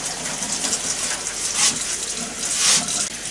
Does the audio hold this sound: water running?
yes